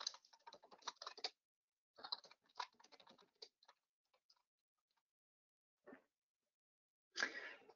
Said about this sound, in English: typing the subject of our meeting.